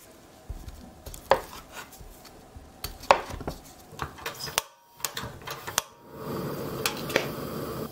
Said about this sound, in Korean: 이제 감자를 크기에 따라 2에서 3등분으로 잘라주시면 됩니다